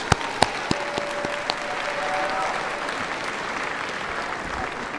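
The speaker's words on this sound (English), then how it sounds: "Give them another round of applause." Commencement crowd at a SUNY Oswego graduation ceremony breaks into sustained applause, a broad wash of clapping with a few sharp close claps and a faint tonal whistle early on, steady throughout.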